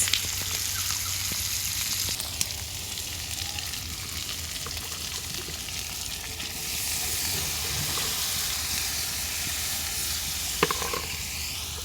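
Onion and chilli frying in a pan, a loud continuous sizzle and hiss close up with occasional stirring knocks, swelling briefly midway, no speech.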